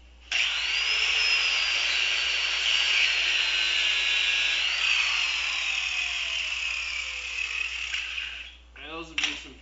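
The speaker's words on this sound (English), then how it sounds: "Not sure how the grinder performs against urethane." A power grinder grinds out cured urethane with a loud, steady high-pitched whine that bends in pitch as the load changes, lasting several seconds before spinning down, followed by a brief voice.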